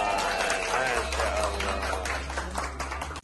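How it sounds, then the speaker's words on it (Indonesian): Audience applause at an Indonesian motivational talk aboard a cruise ship, a dense, steady roar of many hands clapping with crowd voices and a low hum, fading slightly before stopping abruptly. "Tepuk tangan dulu dong."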